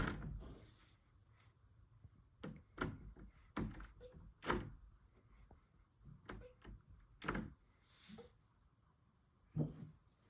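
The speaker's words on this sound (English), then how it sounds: "He literally opened that door." Several dull knocks and thuds, with a door rattling and bumping open amid quiet breathing and shuffling; sparse, irregular sounds close by.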